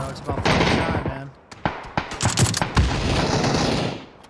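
Shots from an M24 bolt-action sniper rifle in PUBG team deathmatch, several sharp loud cracks scattered irregularly across a few seconds over dense game noise, with a voice briefly heard between them.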